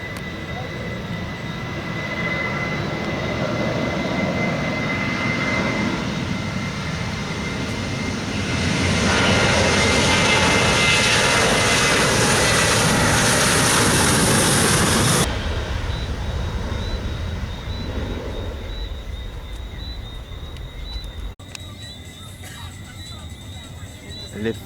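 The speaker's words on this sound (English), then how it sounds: "So there it goes, Sun Country, taking off from the Argyle airport." A Sun Country airliner takes off from Argyle International Airport, a loud steady engine roar building to a peak before cutting away, heard from a distance outdoors.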